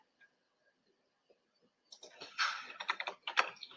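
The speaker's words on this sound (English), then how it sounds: "Pardon my inability to type today." Computer keyboard typing starts after a nearly silent stretch with a few isolated taps, then becomes a quick, close burst of irregular keystrokes.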